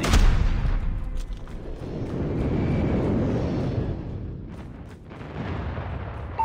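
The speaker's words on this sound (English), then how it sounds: "Friendly airstrike incoming." Friendly airstrike in a Call of Duty match: a long, rumbling wash of explosions swells and fades over several seconds, deep and heavy, with distant gunfire and battle noise around it.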